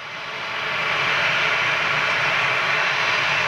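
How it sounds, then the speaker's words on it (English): Ryanair Boeing 737 jet taking off at Manchester airport, a loud broad engine roar swelling over the first second and then holding steady, with no talk. "Ryanair 737 straight out as per norm. Fire it up."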